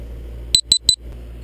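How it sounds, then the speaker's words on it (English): Three short, high electronic beeps from a camera in quick succession, loud and close, over a low background hum. "sorry about the beeping in the last frame."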